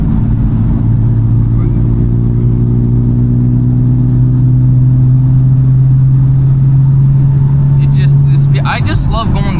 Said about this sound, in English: now we're gonna do a quiet POV drive, and we're gonna take these corners at the speed limit.